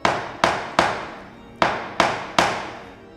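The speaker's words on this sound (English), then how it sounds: "he's going to knock on the door." A series of firm knocks on a wooden door, six raps in uneven groups, close and solid with short decays.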